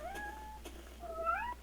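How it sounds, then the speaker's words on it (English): A cat in the Minecraft video game gives two drawn-out, rising meows, clear and close, separated by a short gap over a low steady game background hum. "Kitty is drowning."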